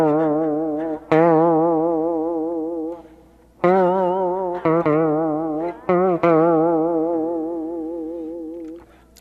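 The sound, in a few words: electric guitar played with a slide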